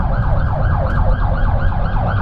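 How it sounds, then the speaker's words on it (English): An ambulance siren wails in a steady repeating up-and-down sweep as the vehicle passes close by on a busy road, loud and continuous with traffic rumble underneath. "I'm gonna let this ambulance pass by"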